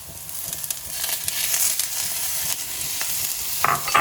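Spinach and herbs stirred into a pan of cooking stemmed mushrooms, a steady close sizzle with soft scraping and stirring that grows slightly louder toward the end, no voices.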